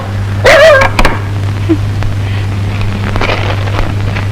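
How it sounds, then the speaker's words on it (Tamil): A dog barks a few times up close near the start, a short burst of loud yaps over a steady low hum, then only quiet background remains. "சொரி நாய் சனியன் உனக்கு குறைக்க வேற இடம் கிடைக்கல"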